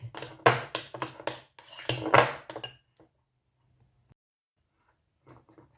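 Okra being stirred and mixed in a pan while frying: a quick series of sharp metallic scrapes and clinks from a utensil against the pan, close and loud for about three seconds, then near silence with a few faint taps.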